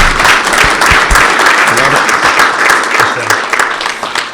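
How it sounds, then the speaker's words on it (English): An audience bursts into sustained, loud applause, with dense clapping filling the whole stretch and a few faint voices mixed in. "give this dude a round of applause"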